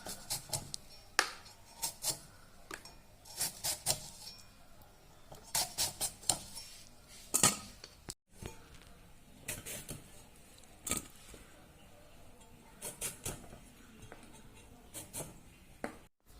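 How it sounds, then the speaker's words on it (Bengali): Knife cutting tomatoes on a board for a Gulsha fish tomato curry, heard as irregular sharp taps and slicing strokes in bursts, fairly quiet with soft rustling between them and no voices. "এখন আমি কিছু টমেটো কেটে নিচ্ছি।"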